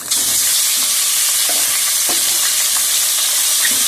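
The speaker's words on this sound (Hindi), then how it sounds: "अब मैं चिकन डालने लगी हूँ, अच्छे से फ्राई हो गया" Chicken pieces frying in ghee with golden garlic-ginger paste, a steady loud sizzle with occasional stirring clicks and scrapes throughout, no voices.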